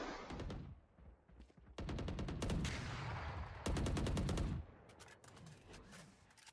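Bursts of light machine gun fire in the tactical shooter Valorant, several loud sustained volleys of rapid automatic shots with short gaps between them, close and dense, with no talking.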